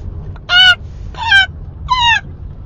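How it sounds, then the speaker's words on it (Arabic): Three loud, harsh gull cries, each about a quarter second long, come in sequence close by over a faint low background. "هذه طيور النورس"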